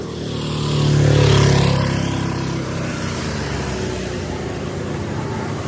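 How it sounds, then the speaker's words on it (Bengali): A vehicle on a rainy mountain road near Sajek Valley swells in with a rough engine drone and passes. Its sound then settles into a steady, broad rumble and hiss. "সব গাড়িগুলো চলে যেতেছে।"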